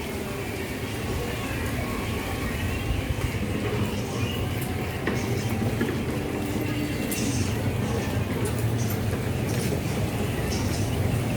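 An LRT light rail train rumbles past at a distance beneath busy street noise at an egg market on Cavite Street, with voices talking nearby.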